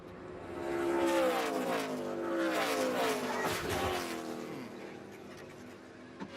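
NASCAR-style race cars roar past a track during the ModSpace 125 race, with engines rising and falling in pitch as they pass loudly nearby, followed by a short sharp knock near the end.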